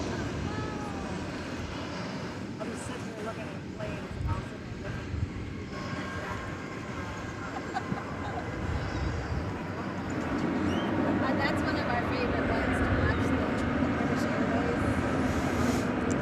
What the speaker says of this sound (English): That was American Flight 1723 arriving from Cancun in Mexico, 737-800.